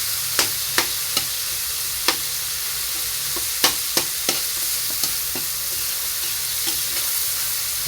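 Miso soup is stirred in a pot: sharp utensil taps and knocks at scattered intervals over a steady background hiss, close by and with no voices.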